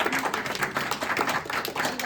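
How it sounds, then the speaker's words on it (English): An audience at a city council meeting applauds with brisk, dense clapping that fills the whole short moment at a steady, fairly close level. "Let's give them a round of applause."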